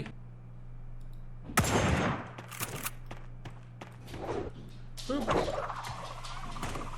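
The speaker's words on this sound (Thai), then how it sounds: "นายระวังนะเราได้ยินเสียงปืนอีกแล้ว" Sharp, loud bursts of gunfire crack out a few times over a steady low hum, with quieter clatter and movement sounds between them, in the game Sausage Man.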